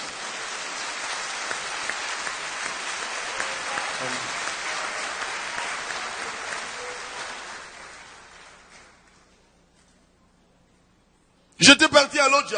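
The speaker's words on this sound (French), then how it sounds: "Palma para Jesus." A church congregation applauds for Jesus during a service, with dense, steady clapping that fades out to silence before a short burst of speech at the end.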